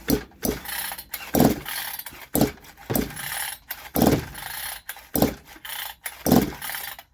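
A chainsaw without a carburettor has its starter cord pulled to test compression, giving a series of about eight sharp, rasping pulls with brief pauses between them, close up and alone.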